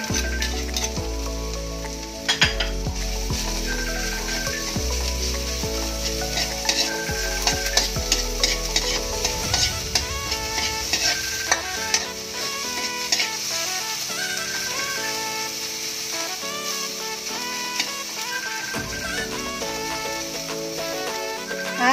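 Garlic stir-fries in a pan with a constant bright sizzle, punctuated by frequent scraping and clacking strokes of a spatula against the pan, no talking.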